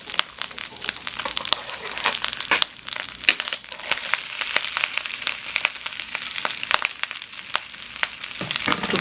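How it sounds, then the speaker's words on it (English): Fried rice cooking in a skillet for a bibimbap dish, a continuous close sizzle and crackle with scattered sharp pops and scraping stir sounds throughout. "So basically I'm just making a fried rice"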